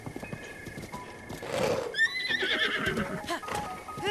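Horse in the video game Breath of the Wild whinnying loudly mid-clip with clip-clopping hooves around it, close and clear, with no speech over it.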